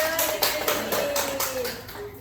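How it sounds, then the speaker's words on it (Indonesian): A classroom of students claps together in rhythmic, evenly spaced beats, close and fairly loud, with a voice briefly over the clapping. "kasih tepuk tangan untuk"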